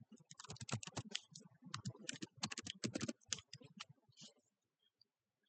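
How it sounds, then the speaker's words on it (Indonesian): Fast typing on a computer keyboard: dense bursts of crisp key clicks in an irregular rhythm, close and fairly quiet, tapering off into silence near the end with no talk. "Pertama kita ketik dulu delimiter."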